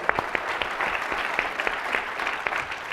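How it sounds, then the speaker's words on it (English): Applause from an audience at a media forum, a moderate, even wash of clapping from many people with scattered sharper claps, continuing without a break. "that is a round of applause."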